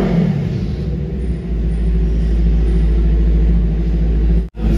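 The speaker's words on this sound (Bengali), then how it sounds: "তো তোমাদের সাউন্ড শোনাবো ভাইয়ের নিনজা 300-এও SC লাগানোর পরে কেমন" A Kawasaki Ninja 300 motorcycle fitted with an SC aftermarket exhaust runs close by with a steady, deep rumbling idle and a brief dip near the end.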